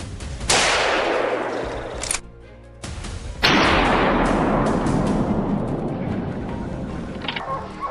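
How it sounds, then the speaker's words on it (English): Gunfire from hunters shooting wild boar cracks out in two loud blasts, each trailing into a long echoing roll through the woods, with a brief hush between them. "gunfire erupts from other positions, signaling more victories for the team"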